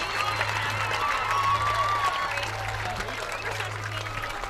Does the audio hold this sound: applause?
yes